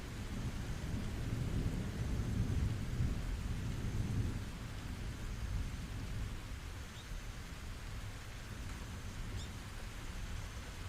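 Steady rain pours alongside deep rolling thunder, the low rumble heaviest over the first few seconds before easing into a constant wash of rainfall, with no voices.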